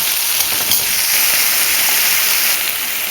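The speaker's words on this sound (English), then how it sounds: "I added the onions, the tomato, and the jalapenos. And so you're just going to saute this for a little bit." Onions, tomato and jalapenos sauté in a hot pan with a steady, even sizzle and hiss that stays constant throughout, with no voices over it.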